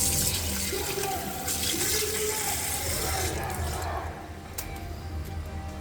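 Chicken pieces washed under a running kitchen tap, a steady broadband splash of water filling and rinsing in a sink that continues throughout and eases slightly toward the end, with no talk.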